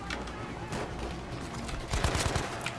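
Gunfire from the World War II shooter Battlefield V: a dense, continuous fusillade of rapid shots throughout, growing louder and heavier near the end with sharp repeated bursts, with faint speech mixed in.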